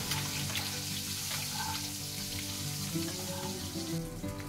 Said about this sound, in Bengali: এগুলোর মধ্যে এক এক করে নুন, হলুদ, লঙ্কার গুঁড়ো দিয়ে লাল লাল করে ভেজে নেব।